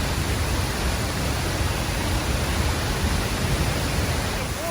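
Thornton Falls on the Ingleton trail in the Yorkshire Dales pours with a powerful, steady roar, a dense unbroken rush of falling water heard close and loud.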